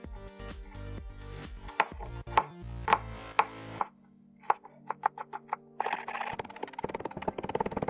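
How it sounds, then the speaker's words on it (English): Fresh garlic chopped with a knife on a board: rapid, close, crisp taps in bursts, first slower and ringing, then a quicker run of light strokes. "Chop up some garlic here"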